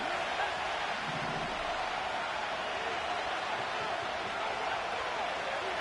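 Stadium crowd roaring in a Madden football game ahead of third down, a steady, broad wash of cheering that stays level throughout, with commentary voices speaking over it.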